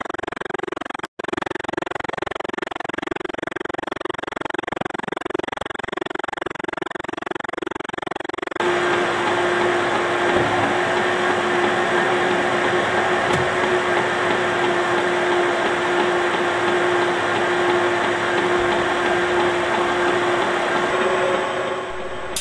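A lathe cuts a quarter-20 thread with the half nut engaged, a continuous mechanical whir and motor hum that shifts to a steadier, tonal drone partway through, close and loud, with a brief click early on and no talking.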